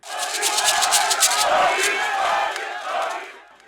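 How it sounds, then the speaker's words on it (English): A mammoth crowd of Labour Party supporters in Benin City, Nigeria, roars and cheers loudly and steadily, a dense wall of massed voices with shouts rising through it before easing slightly near the end. "received by a mammoth crowd of party supporters in Benin City"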